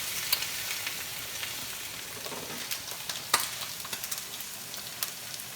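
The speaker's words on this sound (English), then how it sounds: "So here's our delicious meal being cooked. Cast iron skillets, gas stove," Steady sizzling of a bok choy and onion stir-fry in a cast iron skillet on a gas stove, with scattered scraping and tapping as the food is stirred, no talk.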